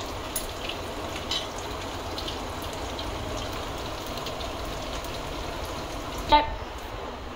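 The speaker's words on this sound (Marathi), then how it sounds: "परत जरा आपल्याला पलटी मारायची, म्हणजे मग त्याच्यावर तेही परतून जाईल चांगलं तेलामध्ये" Colocasia-leaf rolls (alu vadi) shallow fry in oil with a constant, even sizzle close by, broken only by a soft clink near the end.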